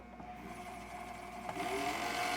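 A motorized Singer 27 sewing machine runs with its clutch disengaged so the motor turns without driving the needle, giving a steady, close, whirring mechanical drone that holds an even pitch throughout.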